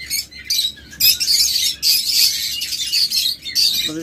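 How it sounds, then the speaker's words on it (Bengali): Red-eye lovebirds for sale fill the air with dense, shrill chirps and squawks, several birds calling in overlapping bursts close by with no talk. "অনেকগুলো লাভবার্ড রয়েছে, এগুলো কিন্তু প্রত্যেকটা রেড আই।"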